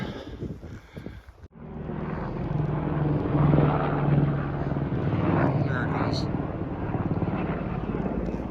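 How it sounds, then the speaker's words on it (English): A tour helicopter passes over a backcountry lake area, its steady rotor and engine drone building and holding loud for several seconds against wind, with people talking over it. "One little downfall of this area is helicopter tours coming in and out of here"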